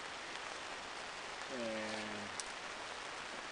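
Steady pouring rain in a forest, a broad continuous hiss throughout, with a brief spoken word partway through.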